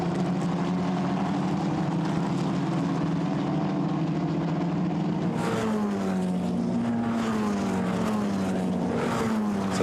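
Formula Renault Eurocup single-seater race cars at the Paul Ricard circuit, engines screaming steadily with rising and falling pitch as several cars pass close by, one loud pass sweeping through mid-clip.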